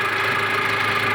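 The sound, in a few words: Nissan TD27 forklift diesel engine running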